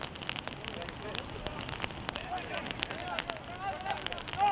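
Rain falls steadily on an outdoor soccer cup final, a soft constant patter heard from beneath a sheltering tree, while a voice talks continuously over it.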